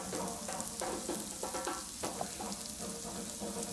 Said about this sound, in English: I'll saute those for about 5 minutes by themselves.